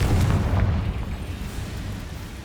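The Confringo fire spell in Hogwarts Legacy detonates in one loud, deep, rumbling blast that fills the scene and then slowly fades, with no talk.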